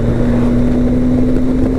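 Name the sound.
BMW K1100LT motorcycle accelerating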